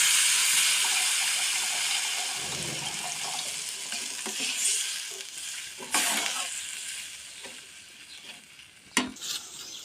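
Mustard-paste fish mixture fries with loud, steady sizzling and stirring scrapes as a little water goes in, the hiss swelling briefly with steam bursts and a sharp clatter near the end.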